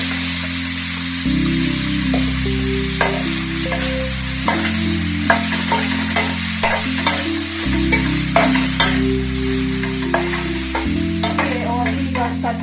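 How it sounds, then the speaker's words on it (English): Vegan meat fries in a little hot oil in a pan, a steady loud sizzle running the whole time with occasional pops and stirring clatters on top, no voices. "We are gonna fry our vegan meat now."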